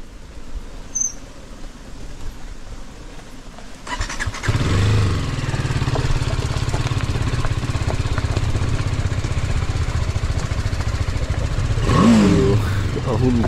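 A motorbike rides over a stony road near a hill temple in Mudigere, its engine coming in loud after a few seconds and then droning steadily and close, with rumble and rattle from the rough surface.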